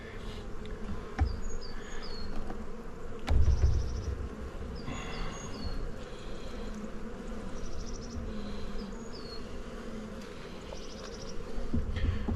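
Honeybees buzz steadily around an opened hive after coming out of winter strong, a continuous close drone with occasional louder passes and no talking.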